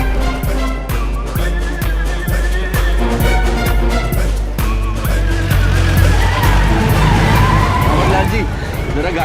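A car driven fast in a comedy movie scene, engine roaring with screeching tire skids and rattling impacts, loud and continuous, with voices shouting over it.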